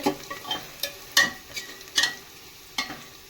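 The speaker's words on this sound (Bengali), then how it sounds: "পেঁয়াজটা আমার ভাজা ভাজা হয়ে এসেছে।" Onions fry in a pan for a duck curry, giving a faint sizzle broken by several sharp scrapes and clinks of a spoon stirring against the pan.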